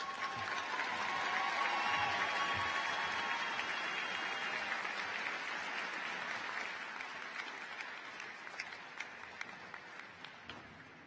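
A crowd applauds at a 2016 high school graduation in a large hall, a broad, distant wash of clapping that swells and then slowly thins out, with a few sharper individual claps near the end.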